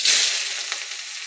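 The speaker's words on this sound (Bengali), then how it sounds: "প্রথম পেঁয়াজ কুচিটা দিয়ে দিলাম, এখন ভেজে নেব।" Chopped onion hits hot oil with a loud burst of sizzle that settles into a steady, close frying hiss, with no voices present.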